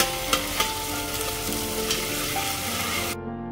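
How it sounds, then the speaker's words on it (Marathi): Ginger garlic paste fries in hot oil with a dense, continuous sizzle, close and loud, broken by a few scraping stirs of a spoon against the pan. "आता आलं लसूण पेस्ट आधी आपण तेलामध्ये छान अशी परतून घेऊ"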